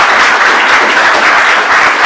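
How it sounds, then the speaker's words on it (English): A talk show studio audience applauds for a guest named Blessing, with a dense, steady burst of clapping, loud and close. "Everyone, clap it up for Blessing."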